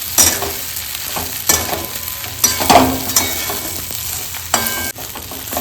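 Spiced leftover idli pieces being stirred and tossed in a frying pan, with steady sizzling beneath repeated scraping strokes of a spoon, close and fairly loud, no talking.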